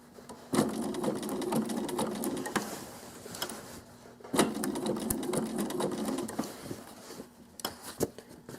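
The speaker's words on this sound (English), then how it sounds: "stop, lift, pivot. Again. Stop, lift, pivot." A domestic sewing machine stitches quilt applique in two sustained runs of rapid whirring, stopping and pausing between bursts for fabric pivots, with light clicks and handling noises in the gaps.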